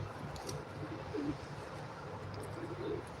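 Pigeons cooing outdoors, soft repeated low coos over a faint ambient background, at a moderate distance and fairly quiet.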